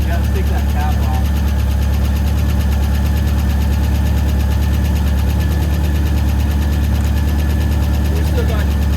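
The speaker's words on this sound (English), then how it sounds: "Engine just got a little quieter, that's good." A 1971 International truck's engine idles steadily and loudly at close range, a constant low rumble with a faint ticking from a couple of lazy lifters, under continuous talk.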